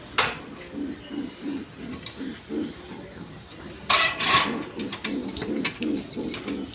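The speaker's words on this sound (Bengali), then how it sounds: "এখানে এক পেয়ার কবুতর আছে, সিরাজি লাহোরি কবুতর" A pair of Sirazi Lahori pigeons cooing close by in a rhythmic series of low, throaty coos, with a brief rustle or scraping noise midway.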